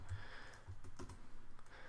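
Soft keystrokes clatter steadily on a computer keyboard, with rapid, irregular clicks at low level and no speech.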